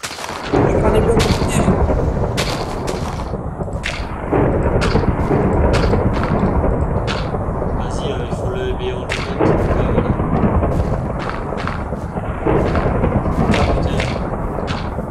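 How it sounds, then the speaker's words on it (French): Thunder rolls and crackles continuously in a Minecraft survival game, a loud, dense rumble with sharp cracks scattered throughout, heard close and steady over about fifteen seconds with faint voices under it. "Il y a de l'orage alors qu'il y a du soleil."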